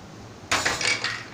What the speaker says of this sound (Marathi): गॅसवर कुकर ठेवत आहे